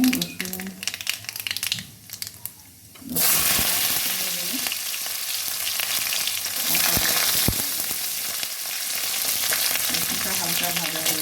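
Black cumin seeds and garlic frying in hot oil for shutki bata, a loud steady sizzle and crackle that bursts in after a quieter start with faint stirring, continuing unbroken to the end.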